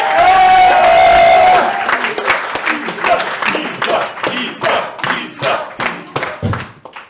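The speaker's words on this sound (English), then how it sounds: "One more round of applause for Isa!" Audience at an improv comedy show applauds and cheers, a dense wash of clapping and shouts that thins into scattered claps and a few voices over several seconds.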